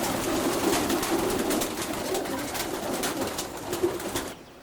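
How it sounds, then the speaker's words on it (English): Racing pigeons coo softly and continuously in a young bird loft, several overlapping low calls close to the microphone with no talking. "And these are a few of Bob's 1998 young birds"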